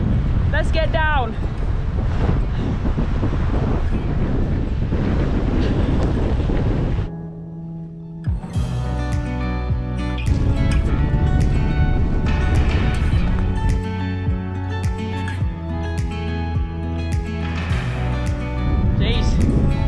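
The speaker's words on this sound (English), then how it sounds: "Jeez, that wind is bracing, shall we say." Strong wind buffets the microphone in heavy continuous gusts on an exposed mountain summit in the Lake District, with a person talking through it and a brief lull midway.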